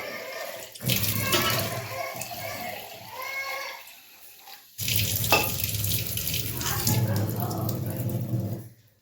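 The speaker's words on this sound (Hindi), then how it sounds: "तो अभी मोटर चला हुआ था तो पानी आ रहा है अच्छा खासा।" Water gushes from a tap fed by a running motor pump, a strong continuous splashing rush that stops briefly and then resumes. A person talks over it.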